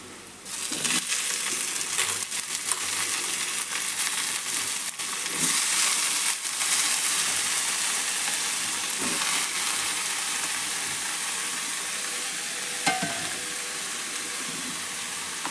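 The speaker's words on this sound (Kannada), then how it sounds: "ಉಳ್ಳಾಗಡ್ಡೆ ಎಣ್ಣೆ ಒಳಗೆ ಕರ್ದವ ಈಗ ನಾನು ಬದ್ನಿಕಾಯಿ ಹೆಚ್ಚಿಟ್ಟು ಅವ್ನು ಹಾಕ್ತೇನೆ" Sliced onion and brinjal sizzle in hot oil in a home kitchen pan, a loud, steady frying hiss with occasional stirring crackles, no voices.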